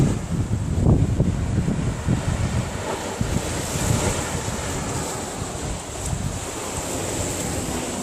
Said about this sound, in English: there's quite a lot of water coming in from the sea here